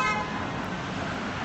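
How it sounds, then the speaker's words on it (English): A car horn blares briefly amid noisy downtown Toronto road traffic, loud and close. "When somebody honks the horn and I'm periscoping, it scares the shnike out of me"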